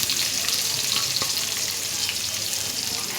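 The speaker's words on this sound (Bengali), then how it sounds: "তেল গরম হয়ে গিয়েছে, তেজপাতা, পেঁয়াজ কুচি দিব," Bay leaves and chopped onion sizzle in hot oil for a chicken curry, a steady close hiss with light stirring scrapes, with no talk.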